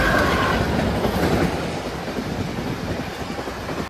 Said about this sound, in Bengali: আর ওই দিক থেকে আরেকটা ট্রেন আসছে